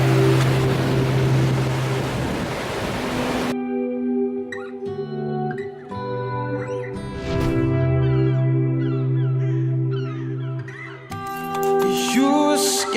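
Ocean surf at Canyon Beach, Oregon roars as a loud, steady wash of noise for about three seconds. It then cuts away to other sounds.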